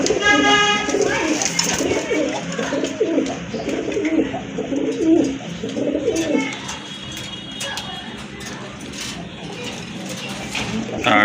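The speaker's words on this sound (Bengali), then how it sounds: "এখানে কিন্তু আরেক জোড়া কবুতর আছে" Pigeons kept for sale coo continuously and fairly close throughout, with overlapping calls forming a steady murmur. A faint background mechanical noise runs beneath them.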